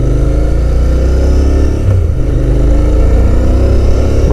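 A Royal Enfield Continental GT 650 motorcycle engine pulls hard under acceleration, a loud, close, sustained roar with a brief dip midway before the rising drone carries on, heard without talk.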